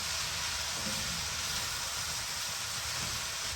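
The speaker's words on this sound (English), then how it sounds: "As the cabbage begins to cook down, you can stir it in with the rest of the vegetables." Shredded cabbage and vegetables cooking down in a pan for a vegan egg roll in a bowl, a steady hissing sizzle with faint stirring, continuous and even throughout.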